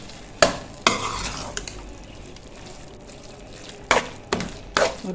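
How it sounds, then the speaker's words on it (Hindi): Keema is stirred and mixed in a pan with a spoon, sharp scraping clacks against the metal in bursts over a soft sizzle, close and loud, with quiet gaps between strokes. "चलें जी, अब हम इसको मिक्स कर लेते हैं।"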